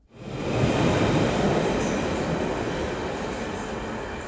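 London Underground Central Line deep tube stock train running through a tunnel, a loud roaring rumble swelling in and holding steady with rattling wheels and a faint high whine, close and dense.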